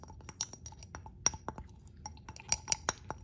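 Spoon stirring gummy candy mixture in a glass bowl, producing sharp irregular clinks and scrapes against the sides, close and fairly quiet with brief pauses between strokes.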